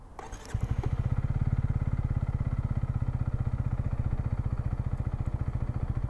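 A 2018 Honda CB125R motorcycle starts with a brief starter whir and catches at once, then settles into a steady, evenly pulsing single-cylinder idle that stays close and loud for several seconds.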